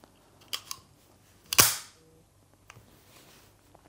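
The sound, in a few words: Mauser HSc pistol slide closing after reinserting magazine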